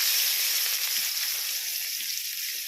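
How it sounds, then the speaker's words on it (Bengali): Onions frying in oil with bay leaves in a kadai, reused from frying duck eggs, give a steady bright sizzle that holds close and even throughout, with no talking. "ভালো করে লাল লাল করে ভেজে নেব"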